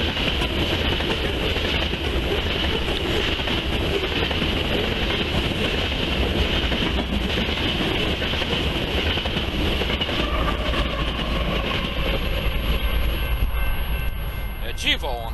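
BNSF freight train rolling past in the Columbia River Gorge with a GEVO helper locomotive on the rear, a loud, steady rumble and wheel noise with faint squeals near the end.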